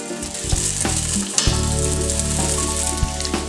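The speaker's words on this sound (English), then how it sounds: "we've had a little bit of time to brown up those sausages on all 4 sides" Sausages browning in a pot, with a steady loud sizzle and crackle of frying fat throughout and a few sharp pops and stirring knocks, close up and with no talking.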